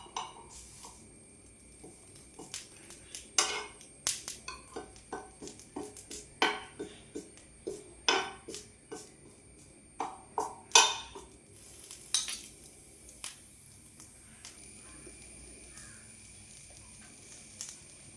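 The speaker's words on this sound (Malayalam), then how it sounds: "എപ്പോഴും തിരിച്ചും മറിച്ചൊക്കെ ഇട്ടിട്ടാണ് കേട്ടോ ഉണക്കിയെടുക്കാനായിട്ട്" Krishna tulsi leaves are stirred and turned as they dry in a pan on the stove, with irregular metallic scrapes and clinks of a utensil against the pan, some sharp and loud, over a faint sizzle.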